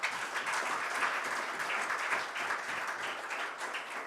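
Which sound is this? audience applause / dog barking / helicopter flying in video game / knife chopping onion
audience applause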